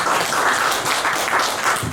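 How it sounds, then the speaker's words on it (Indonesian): A congregation at a Sunday service in a GBI church gives sustained, dense applause, a continuous wash of many hands clapping at once, loud and steady without a break. "Beri tepuk tangan buat Tuhan."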